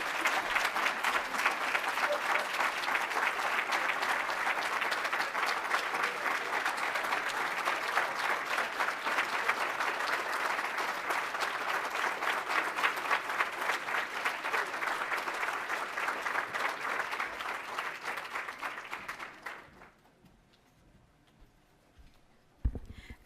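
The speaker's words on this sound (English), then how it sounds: "please keep the applause going for Dr. Matthews" An audience applauds after a speech at a Black celebratory event in 2017, with dense, even clapping from a large crowd that holds for about twenty seconds before quickly dying away.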